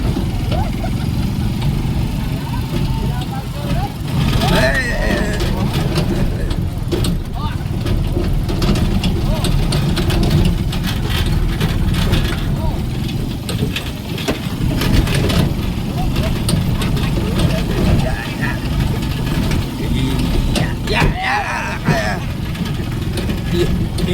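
A motorcycle engine runs steadily at a low idle-like rumble for over twenty seconds, close and fairly loud, with occasional revving surges as people chat nearby in Filipino.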